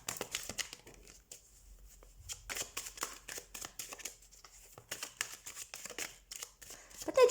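Cards shuffled by hand for a tarot-style reading: soft, close papery riffles and flicks in quick bursts with brief pauses, fairly quiet, with a faint voice near the end.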